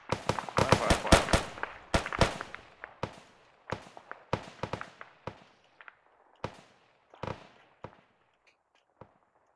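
Rapid bursts of Arma 3 rifle and machine-gun fire during a military simulation firefight, loud crackling volleys at first, then thinning to scattered single shots and echoing pops toward the end.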